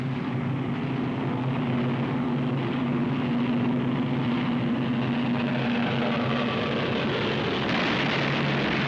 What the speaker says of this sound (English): American P-38s rise to the attack